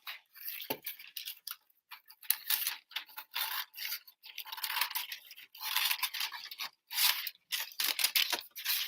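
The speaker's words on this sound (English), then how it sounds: "So I know that I can cut this off right at the top." Scissors snip through material in a quick series of close, crisp cuts, each rasping stroke separated by short pauses, with no talk.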